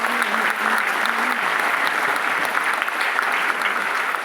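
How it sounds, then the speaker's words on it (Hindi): An audience at a ULP program in Guwahati applauds loudly for Arvind, a dense, steady burst of clapping that holds at full strength from start to finish with a faint voice tone early on. "तो एक बार जोरदार ताली अरविंद जी के लिए बनती है"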